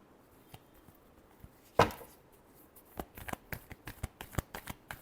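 Tarot cards being shuffled by hand, one sharp riffle burst followed by a run of quick crisp snaps and flicks, close and clear with no talking.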